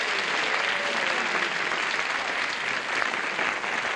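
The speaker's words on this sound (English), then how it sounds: "A lot of boos in the audience this time, Francesca." A studio audience at a 1976 game show pilot lets out a sustained, loud, dense crowd roar of booing that fills the whole stretch without a break.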